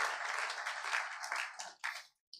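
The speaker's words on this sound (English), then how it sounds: "if you wanted to clap, you are not out of order." A church congregation claps together in a brisk, close burst for about two seconds during a sermon service, thinning into a few last claps before the sound cuts out.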